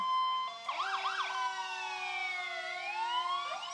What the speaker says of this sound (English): I think each driver tries to out-siren the other driver